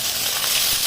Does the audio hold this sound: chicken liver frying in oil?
yes